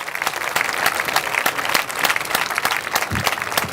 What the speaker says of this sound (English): I want to thank a big round of applause for all of our electeds who are here with us today,